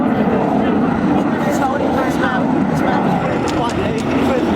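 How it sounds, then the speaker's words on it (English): A Sukhoi fighter jet on its takeoff run at the Biggin Hill Air Fair 1999, a loud continuous broadband engine roar held steady for several seconds, with a commentator talking over it. "We saw the takeoff run"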